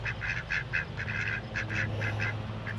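Backyard ducks quack in short bursts beside an unfinished duck pond, a few close, clustered calls over a steady low hum.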